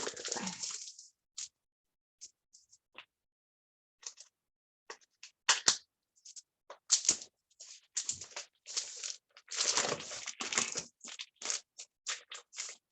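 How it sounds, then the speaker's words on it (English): A utility knife slices and tears into the plastic wrapping of a whole turkey, giving a run of short, close crinkling and scratching bursts with quiet gaps between them. "I'm just gonna cut into the package."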